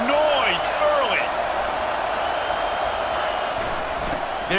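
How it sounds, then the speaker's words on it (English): Stadium crowd noise from the EA College Football video game, a loud continuous roar with whoops and sliding shouts near the start, holding steady as a full crowd bed. "This crowd bringing the energy and noise early."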